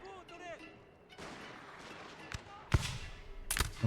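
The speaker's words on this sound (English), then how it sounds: "we have our guns firing into the enemy cavalry" Artillery guns firing on enemy cavalry in Shogun 2: Total War battle, a few sharp booming shots late in the clip over a soft background, with someone speaking briefly at the start.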